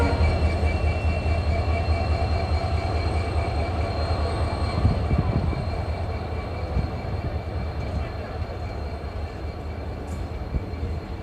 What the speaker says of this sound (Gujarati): તો આપણી ટ્રેન જેતલસરથી ડિપાર્ટ કરી ગઈ છે